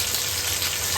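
Tomatoes frying with onions in a hot pan, a brief continuous close sizzle and hiss with no voices.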